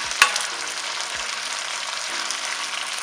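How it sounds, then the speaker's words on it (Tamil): Chicken sizzles and roasts on a tawa over a high flame, giving a continuous dense crackle with one sharp knock near the start, close and alone. "ஸ்டவ் அதிகமாக வச்சு நல்லா ரோஸ்ட் பண்ணிக்கலாம்"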